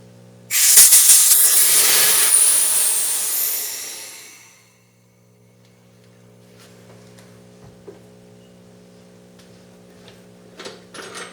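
Pressurized air hisses loudly from a vented pressure pot used to cure Alumilite resin blanks. The burst lasts about four seconds and fades out, leaving a low hum and a few faint ticks.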